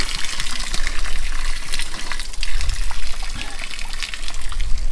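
Spring water gushes and splashes steadily close by, a continuous rushing flow, with people talking over it.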